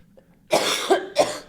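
A person recovering from a cold coughs three times in quick succession, close and fairly loud, with no talking around the coughs.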